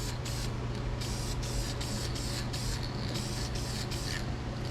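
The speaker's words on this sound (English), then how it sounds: "Boy, that don't spray for shit" Gloss protective enamel hisses steadily from an aerosol spray can, a continuous close spray broken by short, regular pauses as the nozzle is pressed in bursts.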